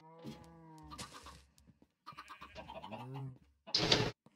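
Minecraft sheep bleating and cows mooing in a few separate calls, fairly quiet with gaps of silence between them, ending on a brief louder burst.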